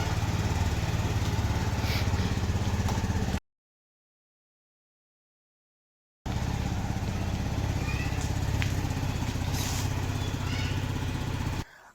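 A new Honda Activa scooter's small engine idles steadily nearby, a low even rumble. It cuts out to silence for a few seconds, then carries on.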